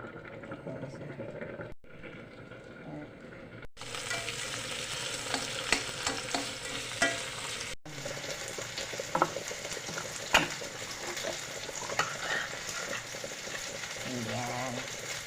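Century tuna sautéed with seasonings in a pan sizzles steadily, with frequent clinks and scrapes of a spatula stirring close by and a brief pause near the start.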